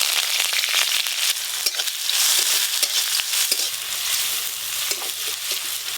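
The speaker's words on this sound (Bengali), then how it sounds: "সব কিছু একটু ভালো করে আমি ভেজে নিয়েছি।" Onion, curry leaves, green chilli and mustard seeds fry in hot oil, giving a continuous bright sizzle and crackle with occasional stirring clatter, close and steady, with no voices.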